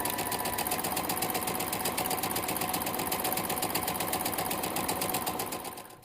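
A sewing machine runs in a fast, steady mechanical whir of rapid stitching, close and continuous, then slows to a stop at the end.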